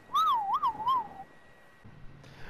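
A single wavering whistle in the video game Ghost Recon Breakpoint rises and falls in a few quick warbles, clear and alone, then quiet low noise follows.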